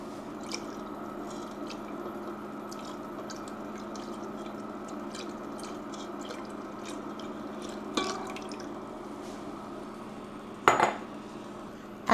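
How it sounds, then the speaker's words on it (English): A spoon stirs a milk and cream sauce in a pot for baked mac and cheese, with soft scraping, faint liquid swishes and occasional light metallic clinks, close and quiet. "After you add the milk and cream, it's important for you to stir continuously until the cream sauce starts to thicken."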